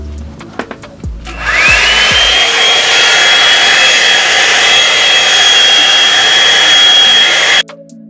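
After some handling clatter and thumps, a hair dryer blow-drying short hair roars on loudly and close. It holds a steady high-pitched whine for several seconds, then cuts off abruptly.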